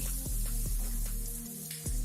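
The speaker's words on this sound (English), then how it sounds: "But first, a shower." Shower water runs steadily in an animated cartoon scene, a constant hissing spray with faint repeated ticks and a low tonal hum beneath, close and continuous.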